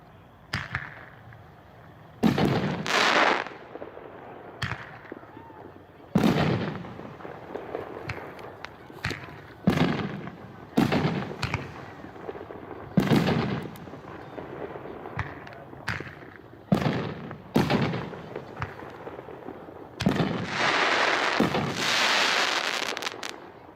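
A Hot Shot 6-Banger consumer firework fires at an outdoor demo. Sharp bangs and crackling bursts ring out at uneven intervals, ending in a denser crackling burst, with quieter background noise in between.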